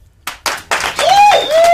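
A single sharp hand clap lands on a count of three, preceded by a few short percussive hits, followed by a bright electronic whistle-like tone rising and falling over it.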